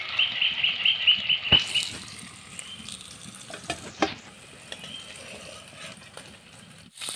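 Tender ridge gourd frying in oil in a home kitchen, a soft steady sizzle with a few stirring clinks and scrapes near the start, quiet and close with no voices.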